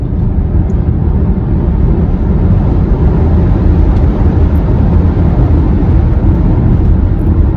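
A Volvo C40 electric car accelerates hard, its cabin filled with a loud, steady rush of road and wind noise that holds without any engine note.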